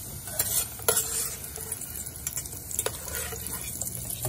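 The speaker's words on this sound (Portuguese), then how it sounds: "Vamos deixar aqui o bacon fritar. Até ele ficar bem sequinho mesmo." Bacon crackles and sizzles in a pan with a steady close hiss, punctuated by scrapes and clinks of a utensil stirring and lifting the pieces.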